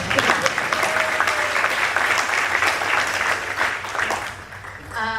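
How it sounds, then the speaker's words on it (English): Audience applause at a Westchester United community evening, a dense wash of clapping that holds steady for several seconds before it thins out near the end. "I think we need an applause for that one."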